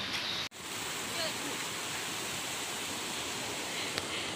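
A river flows in the early morning, a steady broadband rushing wash that is loud and continuous throughout, with a brief dropout near the start.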